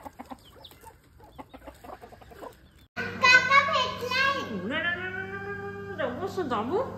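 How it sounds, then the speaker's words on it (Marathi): Faint, soft voices at first, then a chicken breaks into loud, close, drawn-out squawking calls that waver and slide in pitch. "काजू बदाम वाली कोंबडी"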